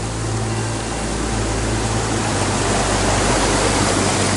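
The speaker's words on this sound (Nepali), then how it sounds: "यता चाहिँ एउटा खोला जस्तो छ है सानो" A small stream runs beside a hiking trail, its water rushing in a steady, continuous wash that stays close and even throughout, with no voices over it.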